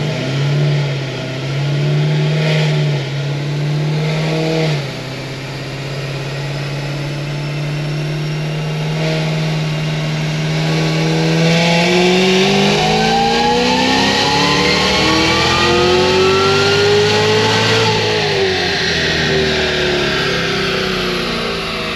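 Tuned Cadillac CTS-V engine with added ignition timing on a power run: idles briefly, then climbs steadily through a long rising rev sweep to a peak near the end, loud and close with no voices.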